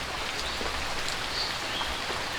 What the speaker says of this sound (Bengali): বৃষ্টি এখনো করতেছে অল্প অল্প করতেছে বৃষ্টি